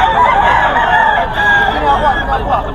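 A Golden Boy Sweater gamefowl rooster crows steadily and loudly at close range, a sustained harsh call running through the whole moment with a rough, buzzing tone.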